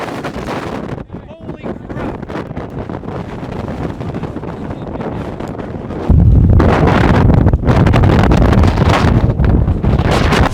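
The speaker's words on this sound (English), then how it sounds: "The wind is very strong, so it's going to feel very weird." Strong wind at a race track buffets the microphone in heavy, roaring gusts that jump louder partway through, with a voice speaking under the rush.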